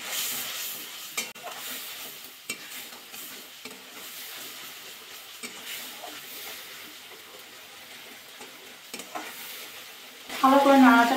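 A spice paste of ginger, cumin, dried red and Kashmiri chilli with a little salt frying in oil for mixed vegetables is stirred, producing a soft continuous sizzle with scraping strokes, ending in a brief louder tonal burst.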